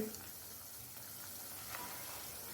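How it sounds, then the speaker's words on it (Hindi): Potato pieces deep fry in hot oil, giving a soft, steady crackling sizzle that stays faint and even throughout. "तो देखिए व्यूअर्स, कितने ज़बरदस्त मेरे ये फ्राई हो रहे हैं।"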